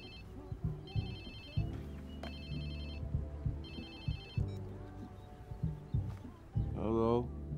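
A phone rings in the video game Watch Dogs 2, sounding as two clear bursts of an electronic ringtone over background game sounds and low voices.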